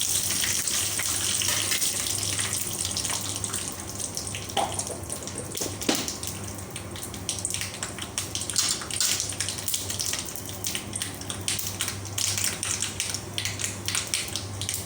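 Curry leaves sizzle in hot oil with mustard seeds, a steady, close frying hiss running unbroken throughout with no talk over it.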